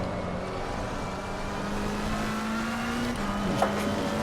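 A race car engine drones steadily in Assetto Corsa Competizione at Watkins Glen, throttle blending in through a corner with a held, slowly rising note, loud and constant with no talk.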